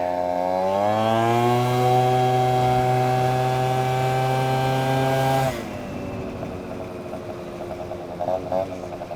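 Minarelli scooter fitted with a Naraku transmission kit revs hard with a loud, rising two-stroke engine whine that holds steady, then cuts off abruptly, leaving lower rough engine and road noise.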